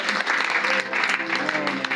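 A church congregation claps for the Lord in a dense, sustained burst of applause mixed with raised voices, loud and continuous throughout.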